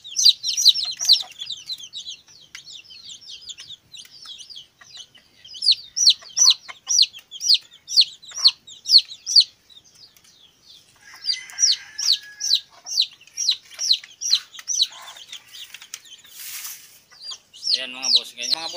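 Newly acquired chicks and a hen on a rural farm, with dense bursts of high peeping and chirping in quick repeated runs and occasional clucks, fairly close and steady across the whole stretch with no talk.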